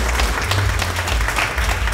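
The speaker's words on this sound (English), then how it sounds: "Give this man a round of applause." An audience at a community gathering applauds loudly for an honoree: a thick, close wash of many hands clapping at once, steady and sustained throughout.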